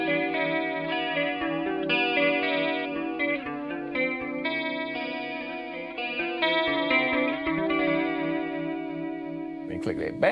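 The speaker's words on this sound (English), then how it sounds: "this first one enables you to add a little bit of extra sparkle to the sound" An electric guitar plays chords and single notes through a Red Witch Empress chorus pedal with its sparkle switch on, giving a shimmering, brightened tone that plays steadily and up close.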